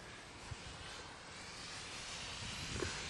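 A Guanli FW 190 RC model airplane makes a low pass in gusty wind at a little over half throttle, its engine a steady, moderately distant drone that swells slightly toward the end.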